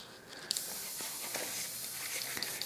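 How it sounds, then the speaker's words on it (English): An airbrush sprays thinners during cleaning, giving a continuous close hiss with small pops and spits as the air bursts through the nozzle. "a little bit of thinners, job done, and that's spraying nice and clear."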